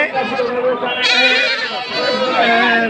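Goats bleat loudly and repeatedly at close range, their wavering cries overlapping amid a noisy crowd at the Bahimali livestock market in Natore, Bangladesh.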